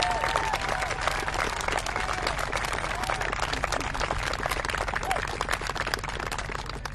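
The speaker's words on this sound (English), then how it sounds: "Can you give them one more round of applause," A school audience gives a sustained round of applause for students at a ceremony, dense steady clapping filling the space from start to finish with crowd noise mixed in.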